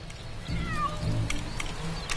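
A cat meows in Lego Marvel Super Heroes 2, a short game sound effect over a steady low background hum and game audio.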